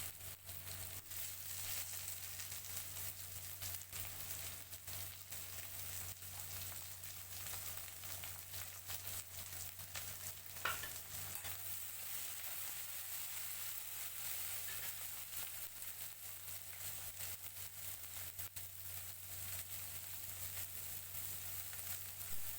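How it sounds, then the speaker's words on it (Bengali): Green chillies fry with onion and garlic in hot oil in a pan, a steady, faint sizzle running unbroken throughout with one brief scrape partway through. "কাঁচা লঙ্কা দেওয়ার পর 8-10 সেকেন্ড একটু ফ্রাই করে আমি টমেটোটা দিয়ে দেবো"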